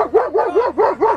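Rapid run of about five sharp barks from a small dog at a rally event, close and loud, evenly spaced with no talking.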